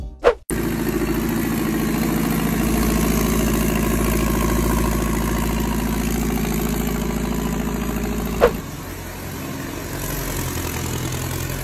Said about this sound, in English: the same dude turboed his forklift and it shoots flames